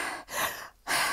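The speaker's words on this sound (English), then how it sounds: "they tend to think about taking a big breath in and their shoulders might rise up like this" A single deep breath drawn in through the mouth, close and airy, followed by a brief gap and then a second rush of breath, with no talking.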